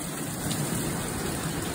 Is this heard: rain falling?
yes